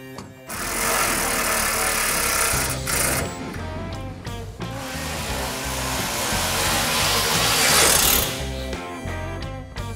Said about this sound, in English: So all the bolts are tightened down now.